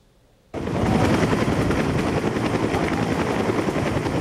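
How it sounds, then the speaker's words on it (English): UH-1H Huey helicopter flying in to land on the National Cheng Kung University campus in Tainan, its rotor noise bursting in loud and abrupt after a brief quiet moment, then holding as a dense, close, throbbing roar with no talk. "the helicopter's noise and the wind it caused caught everyone's attention as it landed right on the campus"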